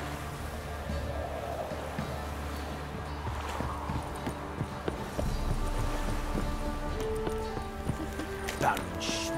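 Horse hooves clip-clop at a steady walking rhythm in the video game The Witcher 3, alongside ambient game sounds and a brief snort, with speech heard over the hoofbeats.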